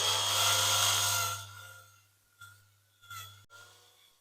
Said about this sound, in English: I'm drilling plastic now